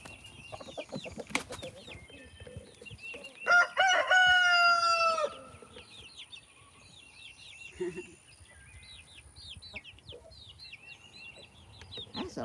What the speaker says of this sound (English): That's Captain Hodges crowing